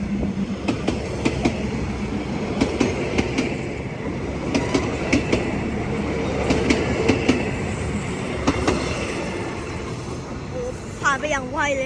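Special steam train on its way to stop at a station on a commemorative run, with a loud continuous rumble of rolling railcars, rhythmic clickety-clack of the wheels and a brief squeal near the end, heard up close.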